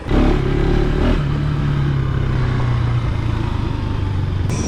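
A 2025 KTM 390 SMC-R and a 2025 Suzuki DR-Z4SM supermoto motorcycles riding on the street after leaving a racetrack, a loud, close engine drone with a steady droning pitch that shifts slightly as they ride, no talking.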